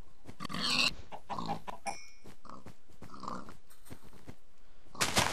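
Minecraft pigs grunt and snort in several rough, breathy bursts spread across a few seconds, fairly close and loud, with a sharper burst at the end.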